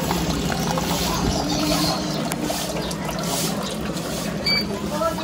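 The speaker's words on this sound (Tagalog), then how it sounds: "itatapat mo yung baso, tapos kusa na siyang magdi-dispense" A coin-operated water vending machine dispenses water into a glass, a steady pouring trickle under a constant mechanical hum.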